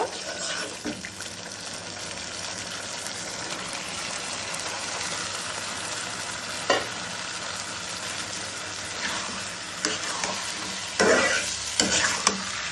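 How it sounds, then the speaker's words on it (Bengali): Garlic stirred into cooked spice paste in a pan for garlic pickle, a low continuous frying sizzle with occasional scraping clinks of the spoon, and faint talk in the background. "রসুনটা দিয়ে সুন্দর করে নাড়াচাড়া দিবেন।"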